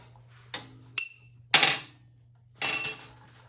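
Seat post bushing being hammered out of a Harley-Davidson WLA motorcycle frame: four separate sharp metallic knocks, close and loud, spaced irregularly with short ringing tails over a low steady hum.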